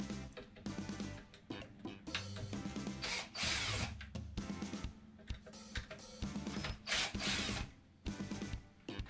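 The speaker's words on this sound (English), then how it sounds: "The two Phillips wood screws are removed here" A power drill backs Phillips wood screws out of a Schlage deadbolt, producing close, loud bursts of whirring and ratcheting that start and stop repeatedly over several seconds.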